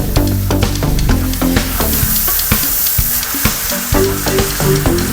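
Beef gochujang noodles sizzle and crackle loudly in a hot stir-fry pan, with steady frying hiss and repeated scraping clatter as they are tossed and stirred.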